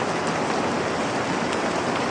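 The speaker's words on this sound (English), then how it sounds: "So rain is a natural sound." Steady rain falls evenly throughout, a dense continuous hiss of drops hitting a surface with scattered sharper patters, moderately loud and alone with no voices.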